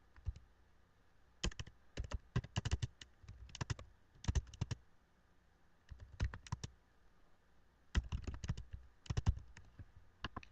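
Messages are typed on a computer keyboard in bursts of quick, crisp key clicks, close by, separated by short pauses.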